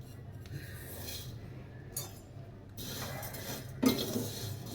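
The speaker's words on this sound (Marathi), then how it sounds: "आता मी त्याच्यामध्ये शेवया भाजून घेते कोरड्यात भाजून घ्यायचे आपल्याला" Dry vermicelli being roasted and stirred in a hot pan with no oil, giving soft scraping and light clinks of a spoon against the pan, fairly quiet and close, with no talk.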